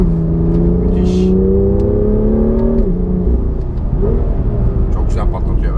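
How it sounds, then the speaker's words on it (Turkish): A BMW M2 engine revs on a race track, heard from the cabin as loud, climbing harmonic tones that drop and build again, with people talking over the engine. "Arabanın sesi çok güzel bu arada."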